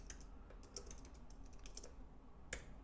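Typing on a computer keyboard that is slightly glitching, with irregular soft key clicks scattered over a quiet room hiss and one sharper, louder click near the end.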